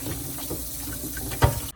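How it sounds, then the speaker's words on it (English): Water splashes and trickles into a bowl of chicken being washed with lemon juice and flour, a close, uneven sloshing with a brief louder splash near the end. "Add a little water, and I mix it"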